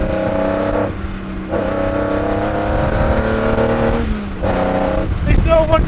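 A Ferrari 250 Testa Rossa engine drones loudly and steadily while driving, its pitch dropping and climbing through gear changes, with a voice talking over it.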